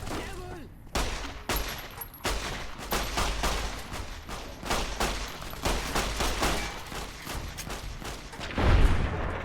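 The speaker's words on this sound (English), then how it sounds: "Anti-material rifle?" Rapid, loud anti-materiel rifle fire in Fallout: New Vegas: a dense run of heavy shots cracks out close, one after another, over a steady battle backdrop, ending in a deep boom.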